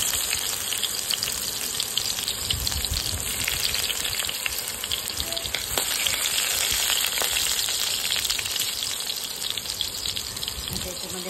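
Cumin, mustard seeds and crushed garlic sizzling in hot oil, a loud, dense, continuous crackle and hiss throughout with no voices.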